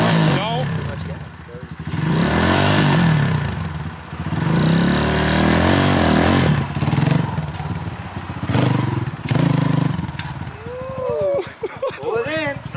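A motorcycle engine revs hard as a rider in first gear gives too much throttle, rising and falling in loud surges with some clatter while people talk over it.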